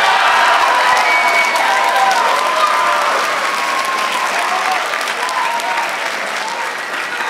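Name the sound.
audience applause and noise in a classroom vote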